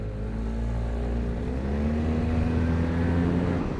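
A Yamaha TMAX 560 scooter from 2020 accelerates with a steady, loud engine drone whose pitch climbs gradually over a few seconds, close by and with no voices.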